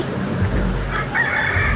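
A rooster crows loudly and close by at a rooster market in Vijayawada, a strained, drawn-out call rising in the second half over low background rumble.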